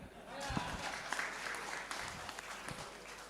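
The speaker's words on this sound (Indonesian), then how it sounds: "Tepuk tangan." Applause from an audience at a gathering of about a thousand ITB alumni in Bandung, steady and moderately loud, with some louder claps and crowd voices mixed in.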